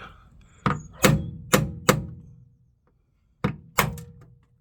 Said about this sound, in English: so hopefully I should be able to bang that through.